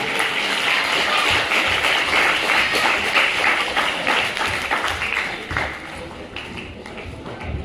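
An audience at a school naat competition prize ceremony in Aurangabad applauds honorees on stage, a loud, steady wash of clapping that thins slightly toward the end.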